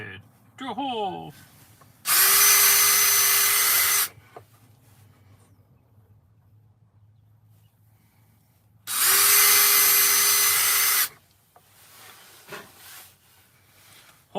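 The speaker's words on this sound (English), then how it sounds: "Okay, drill a hole." A power drill whirs loudly twice in separate two-second bursts, with quiet rustling and handling noises in between.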